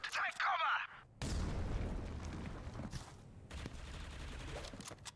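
A frag grenade is thrown and detonates in a professional Counter-Strike match: a short sharp clatter, then a loud, heavy blast with a long rumbling tail that decays over several seconds, with a second burst of noise partway through.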